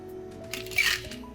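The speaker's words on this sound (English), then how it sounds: "Pour that over the ice." Cucumber mocktail poured from a shaker over ice in a glass, a short crackling, clinking pour that swells briefly and fades.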